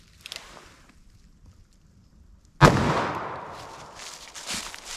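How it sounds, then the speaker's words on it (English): A single loud, close gunshot from a revolver firing a .44 Special Keith load cracks out mid-clip and rings into a long echoing decay, after a few faint clicks and handling sounds before it. "All right, our 44 special Keith load. Do a couple shots of these."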